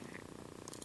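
A dog gives a brief, low, rhythmic rumbling grumble close by, steady in level, with no voices.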